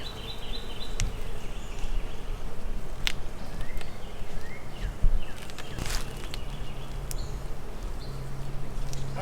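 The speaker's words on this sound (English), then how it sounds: "We've already got a good amount of bees in here" A steady low drone of honey bees swarming around an open hive during a beekeeping inspection done without a protective jacket, continuous and close, with occasional handling clicks and a few taps over the buzz.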